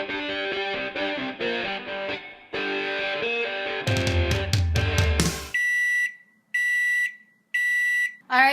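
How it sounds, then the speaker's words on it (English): A microwave's kitchen timer beeps in a series of sharp, evenly spaced electronic tones, loud and close, following a stretch of music. "so my kitchen timer just went off"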